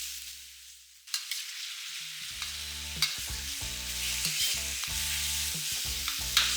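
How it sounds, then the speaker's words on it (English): Thinly sliced pork stir fries in a hot pan, a loud continuous sizzle after a quiet start, with rhythmic scraping and tossing strokes as the meat is broken up. "Break up the pork as you stir fry, as this thinly sliced pork tend to clump together."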